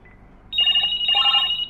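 A telephone ringing from an incoming call, two bright electronic ring bursts in close succession, loud and near, with no talk over it.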